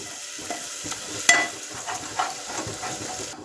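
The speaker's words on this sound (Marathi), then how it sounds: "खडे मसाले काही टाकले होते ते पण आपण वाटण्यात टाकून चांगलं परतून घ्यायचं आहे तेल सुटेपर्यंत" Ground masala paste of coconut, sesame, cumin, bay leaf and whole spices frying in oil in a thick, hot pan, a steady close sizzle broken by a few stirring scrapes and knocks.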